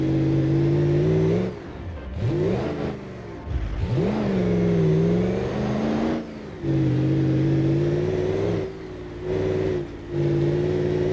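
A modded off-road truck in BeamNG Drive drones with a steady mid-pitched engine hum that dips and surges repeatedly as it takes jumps and rough terrain, loud and close with no talking.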